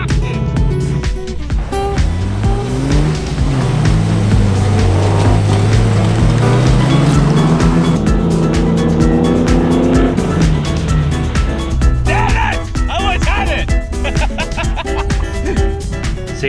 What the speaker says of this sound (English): I'm just spinning off the line